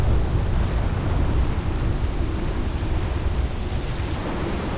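A storm at sea with heavy, steady rain and wind, a continuous loud roar with a low rumble of thunder beneath, no voices.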